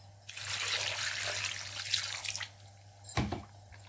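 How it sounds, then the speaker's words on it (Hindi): Two glasses of water poured into mutton karahi in a wok make a steady rushing splash for about two seconds, followed by a brief sizzle and bubbling as the liquid settles. "इसके साथ ही हमने 2 गिलास पानी ऐड कर देना है।"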